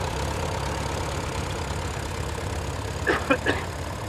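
A vintage International Harvester tractor engine idles in a steady low rumble during a parade at a steam fair, with a few short bright knocks or clanks near the end.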